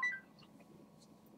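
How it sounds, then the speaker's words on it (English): A mobile phone gives a few short electronic beeps, quiet and close, with small chirps scattered over a low steady background hum. "And that was my phone. That is my phone."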